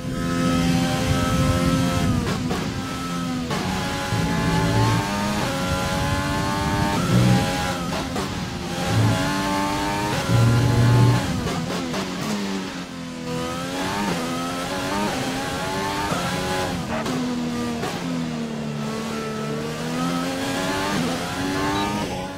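A Formula 1 car in the racing game F1 2020 revs loudly and constantly through rising and falling gear changes during a qualifying lap on a tight track, its engine pitch sweeping up and down, with tire squeal and no talking.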